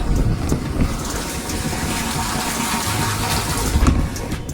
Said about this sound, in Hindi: तो अब ये हमारी टंकी में पानी जाने लगी है